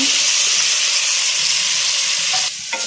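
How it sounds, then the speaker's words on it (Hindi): Chopped tomatoes sizzle and hiss steadily in a pan with fried ginger and garlic, a close, bright crackle that continues throughout and fades at the end. "अब हम इसको फ्राई कर लेंगे।"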